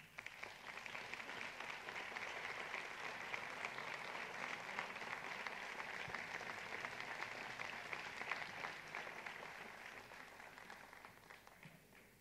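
Audience applause at a Santa Cecilia band concert welcoming new student musicians, steady dense clapping that holds for the whole stretch and thins slightly near the end.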